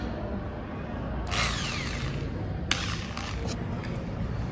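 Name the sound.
hand drill being switched on and running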